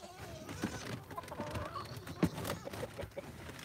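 Chickens clucking softly in the distance, scattered irregular clucks over a quiet outdoor background.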